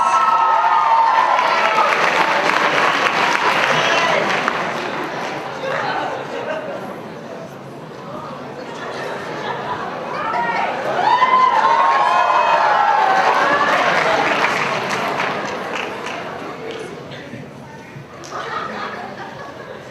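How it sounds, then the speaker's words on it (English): Crowd at a high school poetry slam cheering and applauding for a performer, a sustained noisy swell of clapping, shouts and chatter that dips midway and rises again before fading. "Give him a big round of applause"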